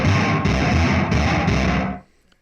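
A processed, distorted guitar-like tone plays loudly for two seconds with a few rhythmic accents, then stops and leaves a short, faint reverb tail.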